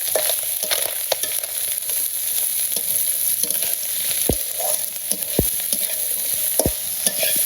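Onions frying in oil for a leafy greens curry in a village kitchen: a steady, close sizzle with frequent stirring scrapes and a few sharp utensil clicks, and no voices.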